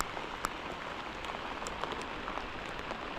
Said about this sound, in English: go sit out here in the rain and hear the rain pecking off the rain gear